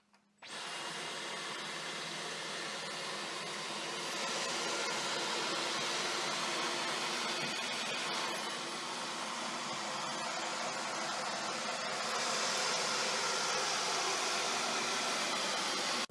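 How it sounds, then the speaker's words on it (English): A Dyson V15 Detect cordless vacuum with the laser slim fluffy head runs on a hardwood floor picking up light debris, a close, loud, steady high-pitched motor whine that starts abruptly and holds with slight shifts in tone. "run a clip of us using the laser slim fluffy cleaner head on a hardwood floor with a little bit of debris"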